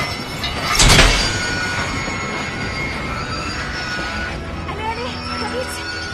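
Train cars rolling on rails with broad rumbling noise and a sharp burst of wheel squeal near the start, steady through the rest, under excited cartoon voices.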